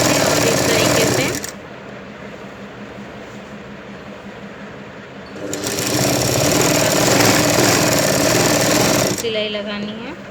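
A sewing machine stitches a Banarasi kalidar lehenga, its loud rapid mechanical chatter running in two long bursts separated by a quieter pause in which someone talks.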